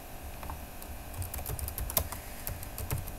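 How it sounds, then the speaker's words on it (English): Close, quick computer keyboard typing, irregular clusters of light key clicks with no talk. "So I'll type here,"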